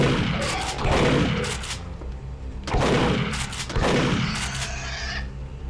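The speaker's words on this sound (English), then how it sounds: "Duke's shotgun always feels nice and punchy" Duke's shotgun in Duke Nukem 3D fires loud, punchy blasts, three heavy shots a second or so apart, each trailing into a brief echoing decay among game sounds.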